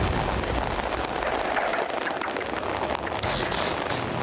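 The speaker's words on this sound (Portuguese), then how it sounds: "10 minutos de fogos de artifício e sinalizadores antes do jogo começar." Football fans setting off fireworks and flares before a match in a stadium: a dense, loud, continuous roar of bangs, crackling bursts and crowd noise with no gaps.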